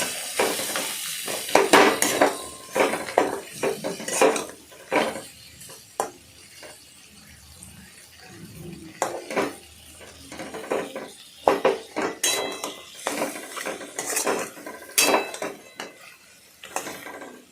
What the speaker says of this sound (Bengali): আস্তে আস্তে টমেটোগুলো তার মধ্যে দিয়ে দেবেন, দিয়ে ভালো করে নাড়াচাড়া করবেন।